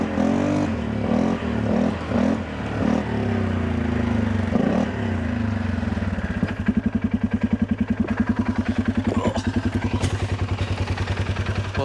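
A Polaris Sportsman 570 ATV engine runs close and loud while driving, shifting from uneven revving and clatter into a fast steady rhythmic chugging putter.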